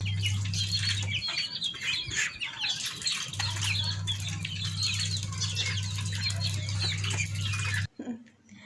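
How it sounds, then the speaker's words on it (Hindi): Chickens let loose and fed rice, wings flapping and birds chirping and squawking close by alongside a steady low hum, ending abruptly near the end. "तो बस मुर्गियों को मैंने छोड़ दिया"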